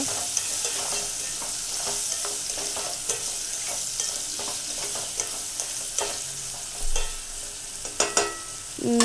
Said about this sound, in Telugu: యాడ్ చేసుకున్నాక మంచిగా మిక్స్ చేసుకోవాలన్నమాట